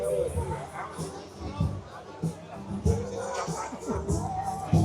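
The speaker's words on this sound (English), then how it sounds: "let's walk right through the middle of the crowd" Crowd chatter fills Giuseppe's pizzeria on a Saturday night, a close, busy murmur of many voices with shuffling and movement, while someone nearby talks.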